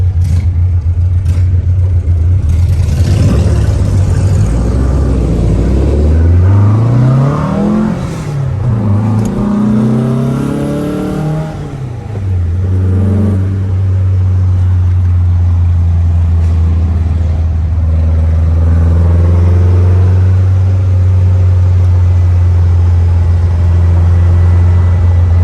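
A black 1969 VW Beetle engine revs loudly while cruising through a tunnel, rising and falling twice in pitch before settling into a steady, loud drone.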